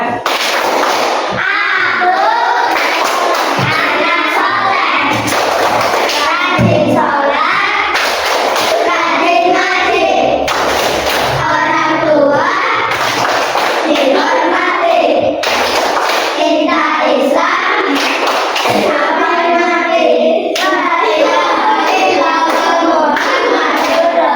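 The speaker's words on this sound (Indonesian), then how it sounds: "Tepuk anak soleh." A classroom of Indonesian pupils performs the 'tepuk anak soleh' clapping chant, with loud rhythmic group clapping in bursts alongside chanted voices throughout.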